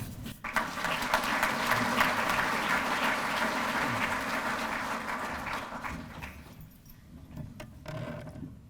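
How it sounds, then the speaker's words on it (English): An audience at a Chamber of Commerce dinner applauds with sustained clapping for several seconds, then the clapping thins out and fades to a few scattered claps. "One more round of applause for our friends"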